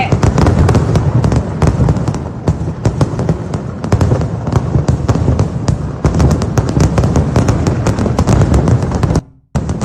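Dense, continuous crackling and booming explosions of the Paramekkavu temple fireworks, rapid overlapping bursts like a barrage, loud and near, cutting off abruptly near the end.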